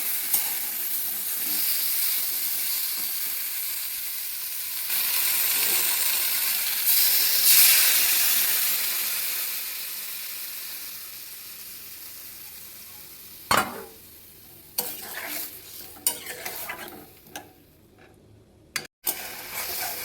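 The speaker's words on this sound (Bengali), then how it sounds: "এই যে আলু কচু সব একসঙ্গে তেল লবণ হলুদ দিয়ে ভেজে নিলাম" Potatoes and taro frying together in oil with salt and turmeric give a steady hiss and sizzle for several seconds that fades out, followed by scattered stirring clatters and pan knocks.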